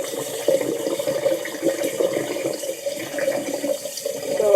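Tap water pours steadily into a basin while makeup brushes are being cleaned, a close, continuous splashing rush that runs alone for the whole stretch without a break.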